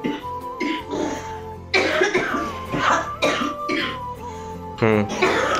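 A child gives several short coughs and throat-clearing bursts at close range, mixed in with voices talking.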